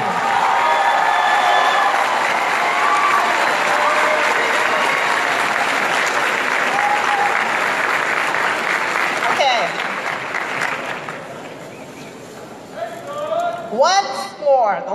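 Large audience at a 2018 Pinole Valley high school graduation ceremony applauding and cheering loudly and steadily, with whistles and shouts over the clapping, which thins toward the end as a voice begins speaking.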